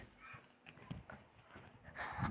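Horse hooves clopping in a Minecraft game, a few soft, quiet thuds spaced irregularly beneath faint background sound.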